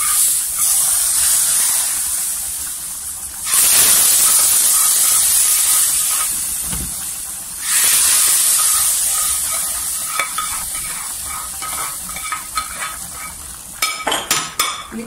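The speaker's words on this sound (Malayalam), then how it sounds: "ഇനി ഈ അരപ്പ് ഈ തിളച്ചുകൊണ്ടിരിക്കുന്ന സാമ്പാറിലോട്ട് ഇട്ടു കൊടുക്കും." Fried spice paste tipped into boiling Kerala sadya sambar sets off loud bursts of sizzling and steam hiss that swell and fade in waves, ending in clattering stirring sounds; no voices.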